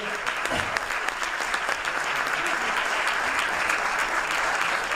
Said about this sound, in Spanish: aplauso, pero para él